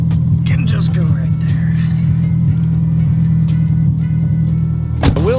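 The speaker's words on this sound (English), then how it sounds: "the idle on this thing sounds a lot more aggressive now." A car running on E85 idles with a rough, aggressive throb, a loud steady low rumble close by throughout, while someone talks over it and something squeaks briefly near the end.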